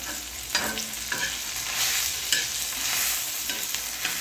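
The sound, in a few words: onion frying and being stirred in oil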